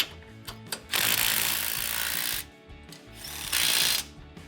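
A ratchet runs down the bolts on a steering box sector shaft brace on a Jeep Gladiator JT, loud close bursts of fast clicking in two long runs with shorter clicks between.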